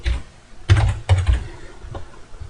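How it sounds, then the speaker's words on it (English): A name being typed on a computer keyboard at close range: a few clustered key clicks and taps in an irregular rhythm, fairly clear against a quiet background. "So we type in here a name"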